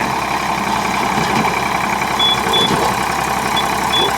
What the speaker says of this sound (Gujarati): જોઈ શકો ટ્રેક્ટર ચાલુ થયો